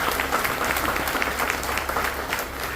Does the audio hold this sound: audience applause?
yes